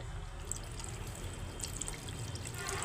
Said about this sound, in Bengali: আর অল্প পরিমাণে একটু জল দিয়ে দিতে হবে